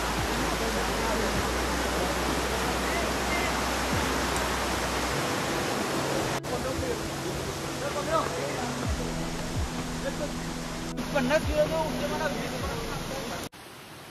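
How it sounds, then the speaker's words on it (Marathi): Barki waterfall near Kolhapur, a dense, steady roar of falling water that fills the scene without pause, loud and close, with a few faint voices under it. "पाण्याचा आवाज बघा"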